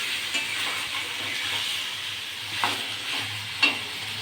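Spice masala with tomato stir-fried in a pan for a fish curry, heard as a steady close sizzle with soft intermittent scraping of a spoon against the pan.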